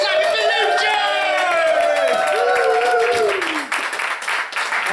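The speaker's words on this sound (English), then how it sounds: "let's keep the whooping, let's keep the cheering, let's keep the clapping for Lucia!" Pub audience at a Llandaff hotel gig cheering, whooping and clapping for a performer, lively crowd noise under a host's excited voice that tapers off at the end.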